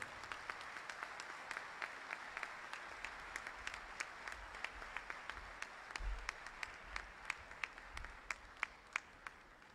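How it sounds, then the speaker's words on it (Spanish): An audience at an awards ceremony during a fertility symposium applauds, a steady wash of many hands clapping for about ten seconds, with sharper individual claps standing out and no talking over it. "Lo acompañamos con un aplauso."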